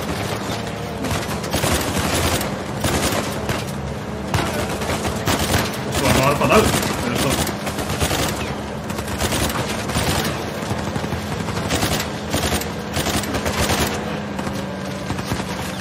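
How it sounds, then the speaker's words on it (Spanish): Rapid automatic gunfire from the video game Uncharted 4 rattles in sustained bursts with heavier booms mixed in, loud and close over a continuous low game hum, with some talk faintly underneath. "Vale, puedo disparar."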